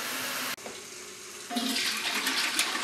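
Water poured into a cooking pot for a homebrew yeast starter, a steady splashing stream that starts after a brief pause and grows fuller toward the end, close and fairly quiet.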